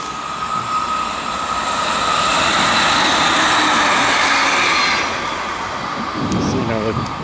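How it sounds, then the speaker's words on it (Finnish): Finnish commuter train of the SM2 electric type passing close by, a loud steady rumble and hum of rail wagons that swells and then eases off, with a short burst of speech near the end. "Sieltä tuleekin lähijuna."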